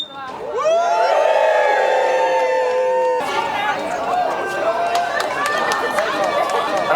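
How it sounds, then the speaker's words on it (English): Crowd at the final lap of Manchester's 24-hour charity run against homelessness cheering and whooping, first sustained high shouts, then a rougher mix of cheers, chatter and shouting close by. "Just get a cheer for that."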